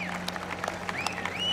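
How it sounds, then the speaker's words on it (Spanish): An audience applauds at a rooster fight (palenque) in Tuxpan, Jalisco, a faint scattered clapping heard under a loud whistling, warbling tone and background noise. "Y señor, venga el aplauso"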